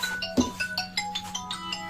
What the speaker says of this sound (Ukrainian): Так, хтось дзвонить.